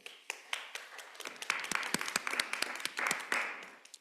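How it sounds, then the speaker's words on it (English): Applause rises at a public schools board business meeting, starting with a few separate claps and building into steady clapping from many hands in the room, moderately loud and unbroken by speech. "So I wanted to give them a big round of applause for that as well."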